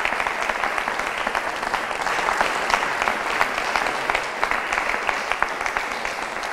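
Sustained applause from a concert audience after an accordion performance, dense steady clapping with scattered sharper claps throughout, no voices.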